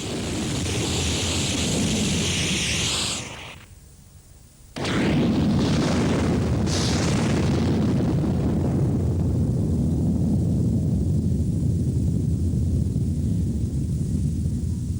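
Heavy rain and storm effect, a dense, loud roar of downpour and wind that briefly drops away before surging back and holding steady, with rumbling low end like thunder.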